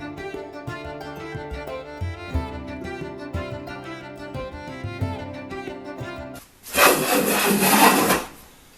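A wooden Union transitional hand plane makes a few rough rasping strokes across a board, then a longer, louder shaving pass near the end.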